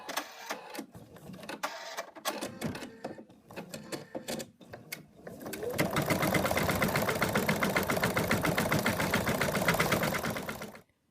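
An embroidery machine stitches out lettering with a fast, steady mechanical rattle that runs loud and continuous for several seconds after some preceding handling clatter, then stops abruptly.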